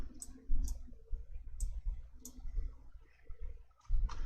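A computer mouse clicks several times in quick, light, close taps spaced irregularly against a quiet background, with soft handling noise between clicks.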